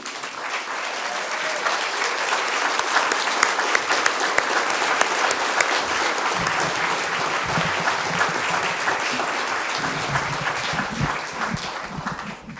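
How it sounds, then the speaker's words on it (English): Loud, dense audience applause fills a convening hall for a cultural performer returning to the stage, a steady wash of clapping that runs throughout with some low crowd rumble joining in later. "give her a round of applause as we bring her back to the stage"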